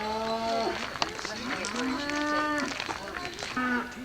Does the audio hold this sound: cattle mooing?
yes